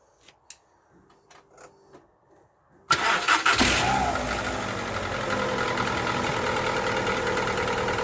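A Skoda Fabia engine cranks and catches after a few seconds of quiet handling noises, then runs with a steady, even drone close by.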